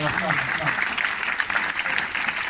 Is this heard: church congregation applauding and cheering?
yes